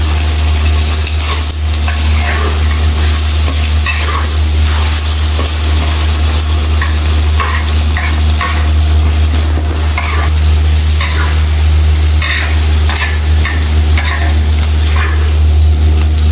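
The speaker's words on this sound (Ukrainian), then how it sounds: "смажимо яйця." Continuous loud sizzling and crackling of eggs frying in hot oil, steady throughout with occasional scraping of a utensil in the pan.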